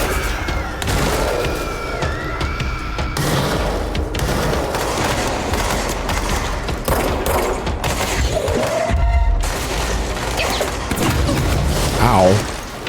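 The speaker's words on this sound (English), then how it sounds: "I forgot that I had the machine gun equipped." Rapid machine-gun fire from the video game Control, with bursts of shots, booms and crashing debris over a busy mechanical background, loud and dense throughout.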